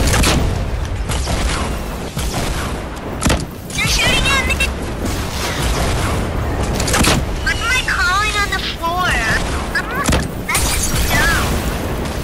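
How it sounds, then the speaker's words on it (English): Gunshots from other players ring out in a Fortnite match, sharp cracks and bursts scattered through the scene under continuous excited talk and game sounds. "they're shooting at me!"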